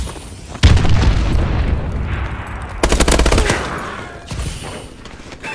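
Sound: missile strike explosions in a video game

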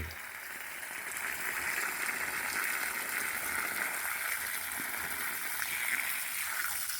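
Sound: water being poured at the base of a tree

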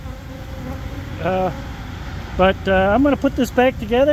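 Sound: honeybees buzzing in an opened hive

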